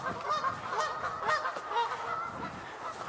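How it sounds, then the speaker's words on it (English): A flock of geese honks as the birds take off outdoors, with overlapping calls in quick irregular bursts at moderate distance, steady throughout with no talk. "The geese are leaving."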